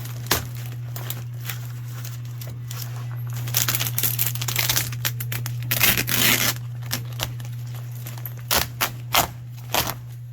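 Brown seat cover being torn and ripped out of a 1961 International Harvester Scout 80, with crinkly tearing bursts and sharp snaps over a steady low hum.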